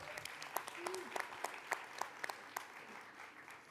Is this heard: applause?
yes